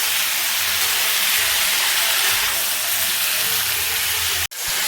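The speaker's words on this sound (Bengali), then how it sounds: "এবার সব সবজিগুলো একসাথে দিয়ে ভালো করে ভেজে নেবো।" Carrots and beans fry together in a pan for a chicken stew, giving a loud, steady hiss of steam and sizzle close by that cuts off sharply just before the end, with no talk.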